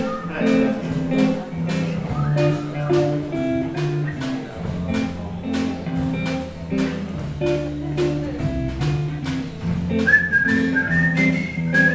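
A person whistles the opening melody of a song during a live swing theatre show, a clear, steady tune carried over soft band accompaniment throughout.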